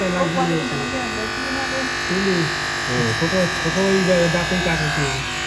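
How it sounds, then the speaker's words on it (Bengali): Electric hair clipper buzzing steadily while cutting a young boy's hair for his first haircut at home, a continuous hum running throughout with people talking over it. "পাপা চুল কেটে দিচ্ছে মেশিন দিয়ে।"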